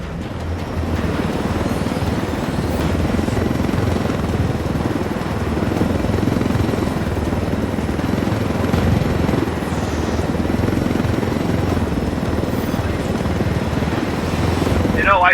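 A helicopter in the video game Ghost Recon Wildlands flies with a steady, loud rotor and engine drone that runs unbroken for about fifteen seconds.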